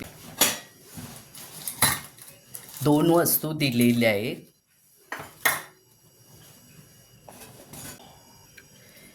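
A heavy fry pan that doubles as a kadhai is handled alongside other kitchen items, giving loud metallic clanks and knocks at irregular intervals while someone talks between them.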